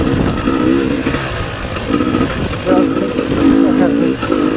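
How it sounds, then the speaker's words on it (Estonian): ATVs and motorcycles roar around a rally track, engines droning and revving in overlapping surges, loud and close throughout. "Siin on nii, et ATV-d vadavad edasi, aga tsiklid saavad siin nendega ka hullata."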